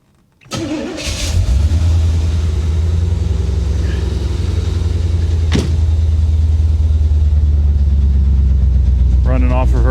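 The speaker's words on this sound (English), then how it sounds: "Let's go ahead and fire it up real quick for you guys, so you can see that she actually does start on her own with the key" A 1985 Chevy Corvette cranks and fires up with the key, then settles into a loud, steady idle with a deep rumble; the idle may carry a misfire. A brief sharp knock lands midway, and a voice speaks near the end.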